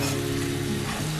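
Homemade from-scratch hash browns sizzle in a pan over medium-high heat, a dense, steady crackling fry with a low hum beneath, close and unbroken.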